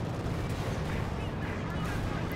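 IL-2 ground-attack aircraft strafing in Company of Heroes 2, a dense continuous roar of rapid gunfire and impacts rumbling steadily throughout, loud and unbroken.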